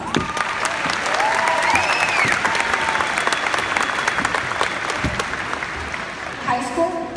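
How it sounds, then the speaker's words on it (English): A high school graduating class applauds during a valedictory speech. The clapping is dense and steady, filling the space for several seconds, with a voice or two briefly breaking through near the end. "Give yourself a round of applause."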